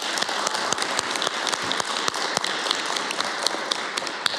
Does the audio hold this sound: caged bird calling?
no